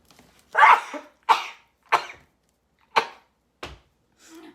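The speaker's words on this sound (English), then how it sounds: "I'm gonna sneeze." Close, forceful sneezes burst out one after another, about five or six with short pauses between them, quieter toward the end.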